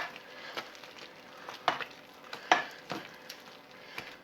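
Soft, irregular squishing and tapping as a masher works through cooked parsnips in a pot, close and fairly quiet, with no talking.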